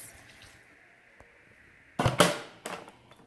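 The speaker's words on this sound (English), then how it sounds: "1 cup of warm water in your blender" Warm water is poured into a blender holding coconut pieces, a short splashing gush arriving after a quiet moment, with a second brief pour following.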